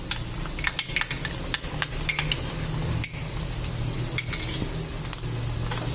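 Ginger garlic paste fries in hot oil with onions for a keema dish, giving a steady sizzle broken by repeated close clinks and scrapes as a metal utensil stirs against the pan.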